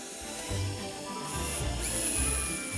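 Screws being driven into a wooden bridge on a historic chateau estate: a close mechanical whirring and ratcheting with low rumbling surges, alone without talk.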